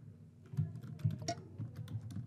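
Someone types on a computer keyboard, a brief run of close, soft key clicks in an irregular quick rhythm with no talk.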